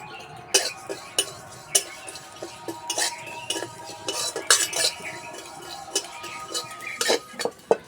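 Whole cumin seeds fry in a wok while a utensil stirs them, giving repeated sharp metallic scrapes and clinks at an irregular rhythm over a faint sizzle, close and fairly loud.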